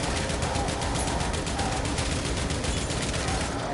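Dense, continuous gunfire from a Warframe weapon firing in a game, a loud sustained barrage of rapid shots with no talk over it.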